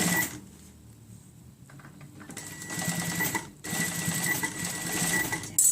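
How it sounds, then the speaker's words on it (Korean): A sewing machine stitching a jeans hem, whirring in bursts with a pause between runs, close and fairly loud. "이거를 이렇게 밀어주면서 박음질 하세요"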